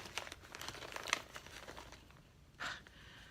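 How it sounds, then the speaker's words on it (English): Plastic bags crinkle close by in a quiet room, with a few scattered rustles and crackles and one longer crinkling burst near the end, no talk over them. "I find these plastic bags perfectly satisfactory,"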